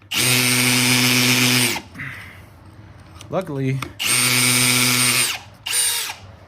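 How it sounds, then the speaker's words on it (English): A Milwaukee power drill bores holes into concrete in a garage, with two loud, sustained high-pitched whining bursts separated by a pause where someone speaks briefly, then a short final burst. "get these holes marked up, and then drill some holes into that concrete"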